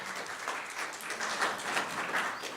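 Audience applause at a senior living home gathering, a steady wash of clapping from a room of people that holds at a moderate level for a couple of seconds without any speech.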